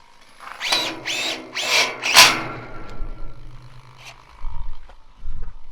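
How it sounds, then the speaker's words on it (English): A power drill drives screws to fasten straps in a garage workshop, giving several short, loud whirring bursts close by in quick succession, then quieter clunks and handling noises. "He's drilling all his straps in here that are going to strap these things together."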